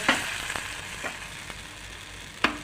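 Appe batter sizzling in the cups of an appe pan, a steady soft frying hiss with a few brief sharper crackles, close and alone with no talk.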